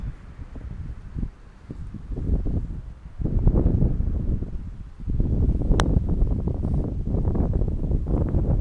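A gust of wind buffets an outdoor microphone by the water during a plein air pastel painting session, a low rumbling roar that surges in waves and stays loud and steady through the second half.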